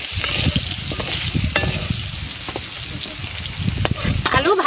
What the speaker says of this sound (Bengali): আলু ভাজা হয়ে গেছে, আলু তুলে নিচ্ছি।